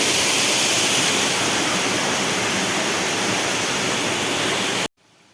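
Clear stream water rushes steadily at Bonacaud hill station near Vithura, a loud, even broadband flow with no talk, cutting off abruptly just before the end.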